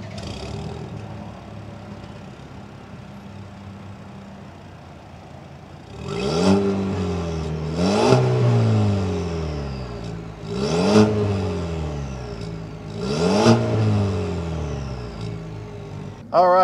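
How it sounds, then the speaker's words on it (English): A 2022 Chevy Silverado Trail Boss with a 2.7L turbo four-cylinder engine starts, idles briefly, then is revved four times in a row, each rev rising sharply and falling back to idle. "let's see what this four-cylinder sounds like when I start it up and rev it"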